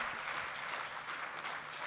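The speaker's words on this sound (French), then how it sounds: "je vous demanderai d'applaudir Fthia Bennis et Michel Saban, toutes les deux" Faint applause from an audience at a women's forum, a steady wash of clapping heard from some distance with no voices over it.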